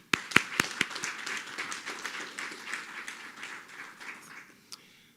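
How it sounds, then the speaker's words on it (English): Applause for learners at the National Senior Certificate 2020 results announcement: a few sharp claps open, then a light scattered patter of clapping that thins and fades over several seconds. "Please, once again, let's give our learners a round of applause."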